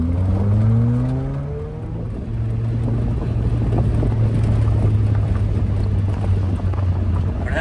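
A naturally aspirated 2.0-litre boxer engine in a Subaru Forester revs, rising briskly in pitch and then settling into a steady, throbbing drone, with wind noise buffeting around it.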